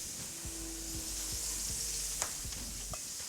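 Pork chops searing in a hot pan give a steady, close sizzle with crackling pops, joined by a few soft knocks of a utensil against the pan.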